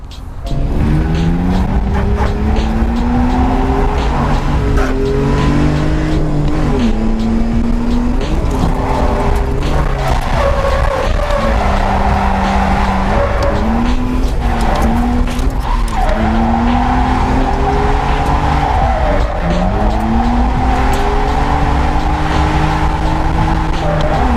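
A drift car on a stock exhaust howls and revs continuously while its tires squeal and skid, loud and close throughout, with rising and falling pitch.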